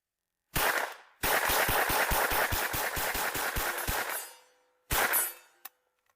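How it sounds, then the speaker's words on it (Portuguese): MAB 38 submachine gun firing two long automatic bursts of rapid, evenly spaced loud shots, then a short final burst and a lone metallic clink, with no talking. "este é um automático, permanece sempre na mesma posição, mesmo atirando mais rápido é fácil de manusear"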